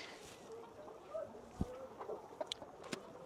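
Chickens cluck softly and intermittently nearby, a few short calls and scratchy sounds over a quiet background.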